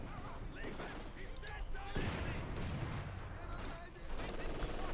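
Mortar fire in the real-time strategy game Company of Heroes 2, with dense booming launches and explosions layered over continuous battle noise, loud and close throughout.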